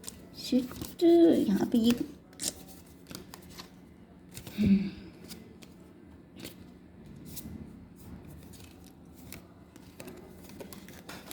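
Tarot cards shuffled and riffled by hand in bursts, loudest early on and again midway, with a person talking over and between the shuffles.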